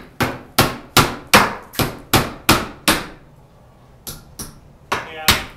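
Close, loud hammer blows driving nails into wood, about seven sharp strikes in a steady rhythm, then a short pause and a few lighter, uneven taps.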